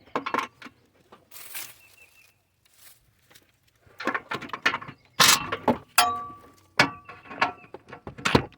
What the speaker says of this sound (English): Then of course this one I gotta use the ratchet wrench.